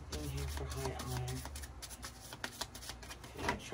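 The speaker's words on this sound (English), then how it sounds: "I gotta learn how to shuffle my cards differently." Tarot cards shuffled by hand, a soft papery riffling and rubbing over the first second and a half, with a few scattered clicks and one louder flick near the end, a voice talking quietly in the background.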